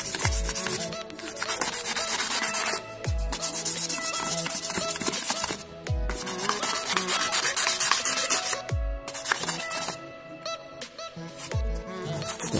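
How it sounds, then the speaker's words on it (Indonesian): Rhythmic sandpaper rubbing against a homemade sugarcane-stalk fishing float, loud and close, steady scratchy strokes with a few brief pauses, under a constant musical background. "Kita amplas."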